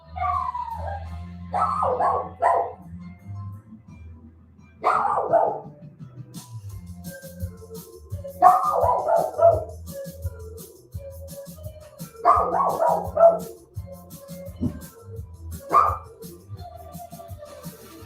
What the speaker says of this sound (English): Do you hear a muffled barking in the background? Or maybe a very loud barking?